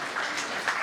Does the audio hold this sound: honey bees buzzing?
no